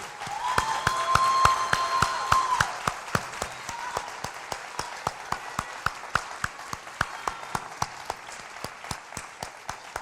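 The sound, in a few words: graduation audience applause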